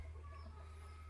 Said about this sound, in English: There's literally just chickens everywhere.